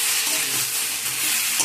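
A spiced methi (fenugreek leaf) mixture is being stirred and fried in a pan, giving a steady bright sizzle with scraping stirring strokes throughout, close and loud, with no voices.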